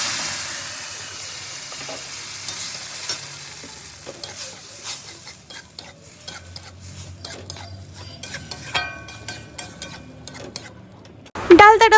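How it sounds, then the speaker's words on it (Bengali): Leftover dal being tempered with onion, garlic, green chili and cumin in a hot pan, giving steady close sizzling and frying with scraping stirs throughout, and a louder clatter near the end. "আর এখানে একটুখানি আগের দিনের ডাল ছিল, সেটাই একটু ফোড়ন দেবো"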